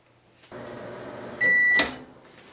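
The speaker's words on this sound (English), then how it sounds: "I'm gonna put it in the microwave" A microwave oven hums steadily while heating a Ronco Chip-Tastic potato chip maker, then a sustained electronic tone sounds near the end, followed by a short clunk like the door or latch.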